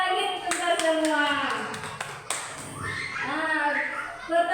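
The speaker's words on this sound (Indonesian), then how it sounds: "Tepuk tangan lagi untuk kita semua." Group applause in a school classroom, short bursts of scattered hand claps mixed with adult and children's voices talking over them.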